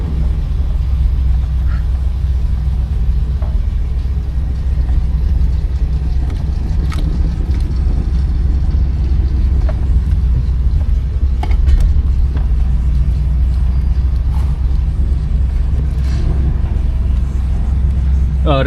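A 1983 Oldsmobile Cutlass on a test drive, its engine rumbling steadily from inside the cabin with constant road and wind noise, and faint occasional speech over the drone.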